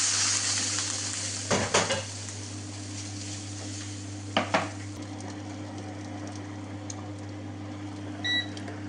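Duck breast sizzles steadily in a pan with oil, garlic, rosemary and thyme, a constant close frying hiss with a low hum beneath and a few clinks of utensils against the pan.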